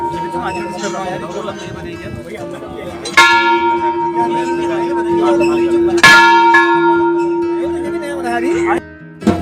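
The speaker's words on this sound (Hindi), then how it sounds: "भगवान गोलजू ने स्वयं अपने हाथों से घंटी यहाँ चढ़ाई" A large temple bell strikes loudly twice, each ring ringing out in a long shimmering tone that fills the space before a third strike near the end.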